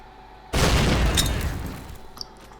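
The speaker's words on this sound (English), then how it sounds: "We're just gonna lob a couple of grenades in there." A grenade blast in the game S.T.A.L.K.E.R. Shadow of Chernobyl: one loud, close boom after a short quiet start, rumbling and decaying over about a second and a half, with a faint pop near the end.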